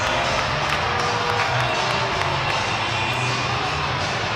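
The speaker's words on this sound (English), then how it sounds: "Crowd letting their feelings be known" An ice hockey arena crowd roars steadily in reaction to a fight on the ice at a Sheffield Steelers game, a dense, continuous wash of shouting and cheering from a large audience with no single voice standing out.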